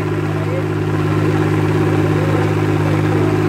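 A Sonalika DI 35 tractor engine runs steadily at a low, throbbing idle, loud and close, with faint background voices.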